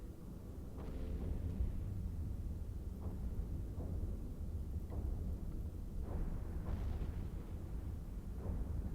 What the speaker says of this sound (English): I'd expect to get blown up by this hive explosion